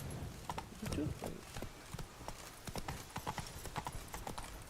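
Hooves of the horse Roach clip-clop in a video game, a quiet, uneven run of close hoof knocks with a voice speaking over them.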